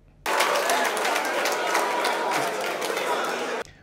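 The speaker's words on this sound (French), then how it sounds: "Ils sont en train de vous applaudir" A television studio audience applauds a minister during a heated Guinean debate on a new constitution, a dense, steady burst of clapping with crowd murmur that starts abruptly and cuts off after about three and a half seconds.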